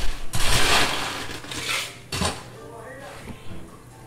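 Ice rattles and clinks into a cocktail shaker for a caipirinha, a few loud bright clattering bursts of cubes against the tin, with quieter knocks trailing off.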